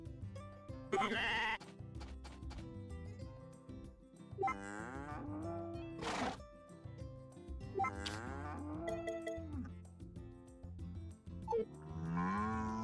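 Farm animals in the farming video game Story of Seasons: A Wonderful Life, with a goat among them, giving repeated moos and bleats. The calls come one after another, loud and close over a steady musical backdrop, with no talking.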